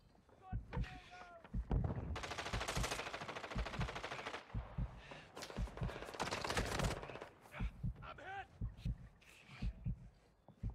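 Rapid automatic gunfire from Call of Duty DMZ, with dense bursts and scattered shots running through most of the stretch, mixed with game sounds and some talk.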